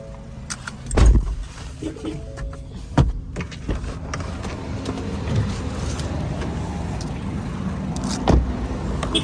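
A vehicle approaching from behind on a road, its engine rumbling steadily while sharp knocks and thumps stand out at intervals, close and fairly loud.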